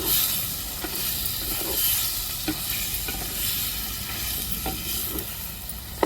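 Country chicken seasoned with rock salt sizzles in a pan while being stirred, with soft scraping strokes recurring at an irregular pace over a constant frying hiss.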